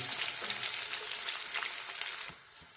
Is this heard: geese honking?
no